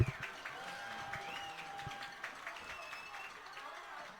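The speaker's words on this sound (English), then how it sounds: "The parent section in front of us is clapping." Parents in the stands at a North Andover vs Chelmsford high school football game clap in scattered bursts, mixed with crowd noise and nearby voices.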